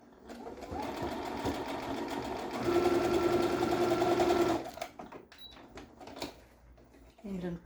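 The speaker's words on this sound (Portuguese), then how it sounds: "Uma costurinha reta mesmo aqui," A sewing machine runs a straight seam on fabric for lingerie, a close, steady motor hum lasting about four seconds before stopping, followed by faint handling noises.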